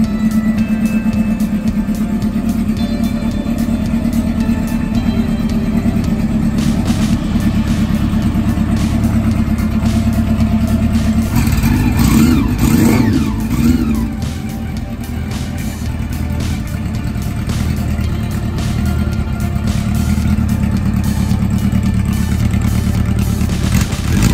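A loud liquid-cooled inline four-cylinder Honda CB400 Super Four motorcycle engine runs steadily for the whole stretch, with a brief surge in revs partway through before settling back to a constant drone.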